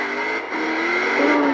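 A car in Forza Horizon 4's LEGO setting corners hard with a steady, loud engine drone, pitch shifting as it works through the turns, with no talk over it.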